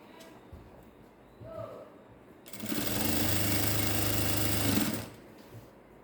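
A sewing machine runs a straight stitch along the elastic waistband of ladies' pants, a steady loud whirring burst of about two seconds after quieter handling sounds, close up.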